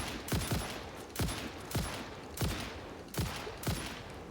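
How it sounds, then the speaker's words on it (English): A rifle fired in the factory-building game Satisfactory, with about seven loud, close shots at a steady pace of roughly one every two thirds of a second, each with a sharp crack and a short tail, over steady game ambience and no talking. "can I get the flies with this rifle?"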